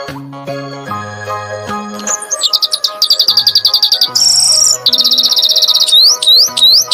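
Nightingale song of rapid, loud trills and repeated whistled phrases, following a brief stretch of low tonal music, with no speech.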